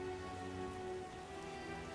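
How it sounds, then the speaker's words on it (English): Steady rain patters on surfaces in The Witcher game, a quiet, even hiss of falling drops that carries on unbroken with no voices over it. "Some rain."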